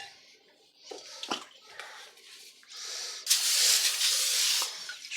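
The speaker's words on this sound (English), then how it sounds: "Spray your pan." Cooking spray hisses onto a baking pan for Brussels sprouts, a steady close spray that builds and holds for a couple of seconds after some soft handling noises and faint voices.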